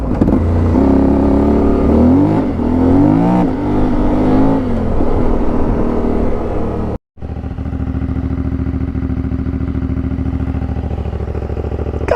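A CFMoto 450 motorcycle with a new aftermarket exhaust rides along a back lane, its engine loud and close, revving through rising gear changes, then cutting out briefly before a steady rumbling pull resumes.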